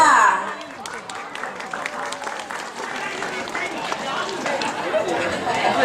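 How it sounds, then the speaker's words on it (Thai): An audience claps and cheers to welcome dancers onto a stage at a Thai Teachers' Day show, a steady wash of applause with some crowd chatter throughout. "ขอเสียงปรบมือต้อนรับครับ"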